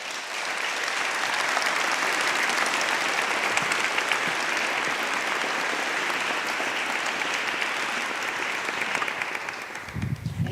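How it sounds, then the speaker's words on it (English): Sustained applause from a conference audience at an international wood architecture event, a dense, even roar of clapping that builds quickly and holds for around ten seconds before fading into a low thump. "Eric, the applause is yours."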